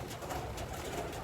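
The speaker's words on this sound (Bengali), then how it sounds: "দেখেন আমার কাছে কী কী আইটেমের কবুতর আছে দেখেন" Pigeons of several kept varieties coo softly and continuously in a loft, a low steady murmur filling the whole moment with no voices.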